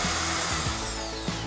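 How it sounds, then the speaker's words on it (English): A power screwdriver drives screws through decorative strips along the edge of a floating house's roof, a steady close whir with brief surges as each screw bites, no talking. "We screw them on the sides"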